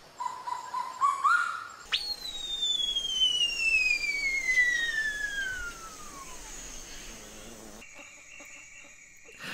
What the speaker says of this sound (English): Listen to the noise these birds make.